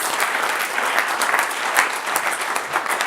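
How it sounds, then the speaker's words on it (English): A dense burst of audience applause, steady and loud for a few seconds, many hands clapping together with a faint murmur of the crowd. "Give Simon a round of applause"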